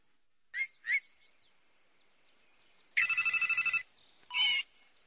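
A telephone rings in a Chinese police radio drama: a fast, rattling bell trill in one loud burst, then a shorter second ring, preceded by a few chirpy electronic tones.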